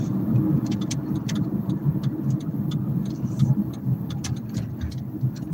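Car driving on the road heard from inside: a steady low engine and tire rumble with faint scattered ticks and clicks over it, continuous and moderately loud throughout.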